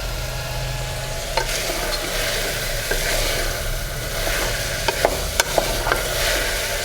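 Vegetables for a mixed sprouts curry stirred in a hot pan, a loud continuous sizzle with a low steady hum beneath and scattered spoon clicks and scrapes toward the end.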